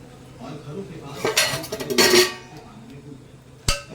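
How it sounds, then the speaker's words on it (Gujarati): A utensil scrapes and clanks against a metal pot while mixing in barnyard millet, a short burst of stirring, followed by a single sharp clang near the end. "મોરૈયો પણ તપેલીમાં મિક્સ કરી દઉં"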